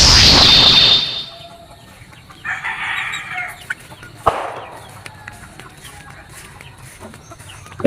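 Five cockerels clucking and crowing inside an indoor mini range: a loud crow opens the clip, then scattered clucks and short calls follow at close range.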